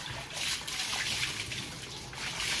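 Cold mountain spring water running freely with no faucet at a beach resort in Tiwi, Albay, a steady close rushing and trickling wash that continues without a break.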